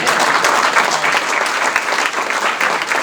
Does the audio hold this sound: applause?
yes